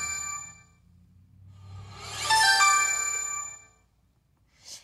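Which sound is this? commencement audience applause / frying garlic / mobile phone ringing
mobile phone ringing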